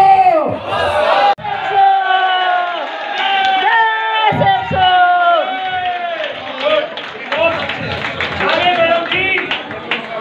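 A crowd at a Safe Shop leadership gathering in Delhi cheers loudly, with excited voices shouting and whooping over scattered clapping, the roar rising and falling in energetic surges close by.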